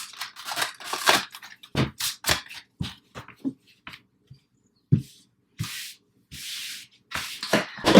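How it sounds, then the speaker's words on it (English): Tarot cards being shuffled by hand in a quiet room, giving bursts of soft riffling and rubbing with short pauses between them, close and fairly faint, with no talking. "Last shuffle."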